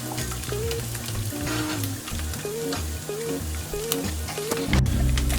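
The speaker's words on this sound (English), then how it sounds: "At this point, our cheese sauce is starting to boil and get dense." Thick vegan cheese sauce bubbles at a boil in a pot while a whisk stirs it, giving a steady sizzling, churning texture with rhythmic scraping strokes, close up and alone.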